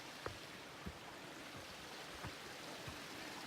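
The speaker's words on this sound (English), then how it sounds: "it's so nice to see these creeks too" A small creek in Pilot Bay Provincial Park by Kootenay Lake flows with a faint, steady watery hiss, soft gurgles and occasional drips over the continuous wash, no one speaking.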